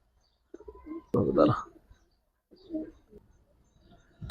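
Hariyal (hurricane-breed) pigeons coo close by: a few soft, low coos with a fuller burst in the middle, separated by short quiet gaps.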